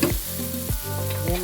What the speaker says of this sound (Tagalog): Lagyan na natin ang ating bawang. Yan, isunod natin ang sibuyas.